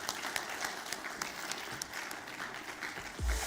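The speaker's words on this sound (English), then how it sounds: "Let us give a huge round of applause for Mrs. Manisha Sabu, and please join us on the stage." Audience applause welcoming Mrs. Manisha Sabu to the stage at a BNI business talk show, fairly faint, even clapping that continues for a few seconds, with a low thump near the end.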